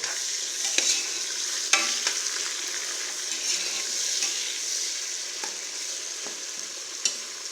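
Onions and tomatoes for mutton biryani sauté in hot oil with a continuous bright sizzle, punctuated by several sharp scrapes and knocks of a stirring spoon against the pan.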